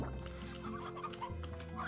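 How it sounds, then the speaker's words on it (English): Chickens clucking inside the Slime Rancher video game, a steady stream of soft, overlapping clucks over a dense backdrop of in-game sound, with no talk. "I'll feed you guys some chickens."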